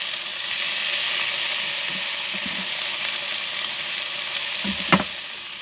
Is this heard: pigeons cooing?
no